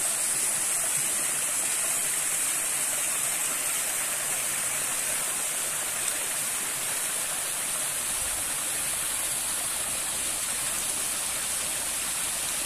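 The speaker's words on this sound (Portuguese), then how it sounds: "não é uma cachoeira grande, mas ela congela" A small waterfall in partly frozen surroundings gives a steady, dense rush of falling water, close and continuous throughout, with no voices.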